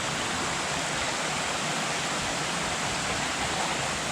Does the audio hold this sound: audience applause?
no